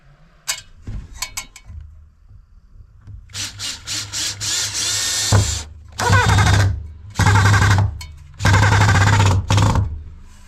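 A power drill drives a screw, worked one-handed from a ladder with a PZ1 bit standing in for a lost PZ2. Several close, loud whirring bursts follow a few short taps, each run longer and steadier than the last.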